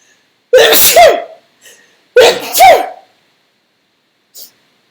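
Two loud, close sneezes, each a sharp inhale then an explosive burst, about a second and a half apart, followed by a faint sniff.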